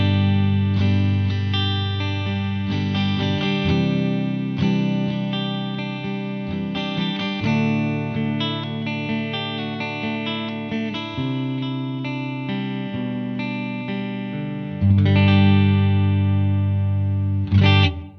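An electric guitar plays a clean tone through a Blackstar AMPED 1 on its third built-in cab, a close, steady run of picked notes and ringing chords with effects-like shimmer, ending in a final strummed chord.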